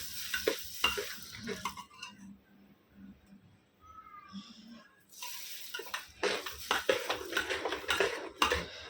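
Fermented sandan batter being mixed with sugar for Kokani sandan, heard as close, irregular scraping and clinking of a spoon against a bowl in bursts, with a quieter pause in the middle.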